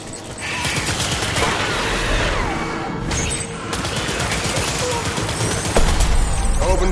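Gunfire in the video game Death Stranding, a dense, continuous fusillade of rapid shots rattling loudly and close, with a brief lull midway before the barrage resumes and swells again toward the end.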